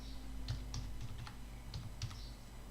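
Soft typing on a computer keyboard during a JavaScript coding session, a few scattered keystrokes at an uneven pace, faint against a steady low hum.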